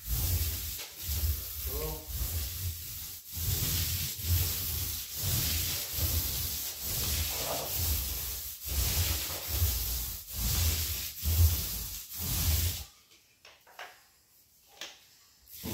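A second coat of paint goes onto a wall during the finishing stage of a cottage renovation, heard as steady, rhythmic rubbing strokes close by. They stop near the end, leaving a few faint knocks.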